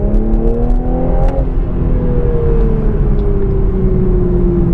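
Manual Toyota GR Supra with a BMW straight-six engine accelerating up a steep city hill, a loud sustained engine note climbing in pitch, then easing after a gear change and continuing to pull steadily.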